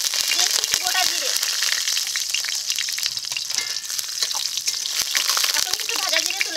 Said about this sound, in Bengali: এই তেলে দিয়ে দিচ্ছি একটা তেজপাতা, দিয়েছি একটু গোটা জিরে।